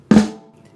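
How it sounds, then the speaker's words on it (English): A single sharp drum hit played as a flam, with a slightly doubled attack, followed by a short ringing decay that fades into quiet. "So if you know that a flam sounds like this"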